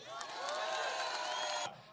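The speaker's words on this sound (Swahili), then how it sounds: "wapigie makofi." A crowd at a public event in Alego Usonga, Siaya, cheers and whoops with a brief, dense burst of voices heard from a distance, then cuts off sharply.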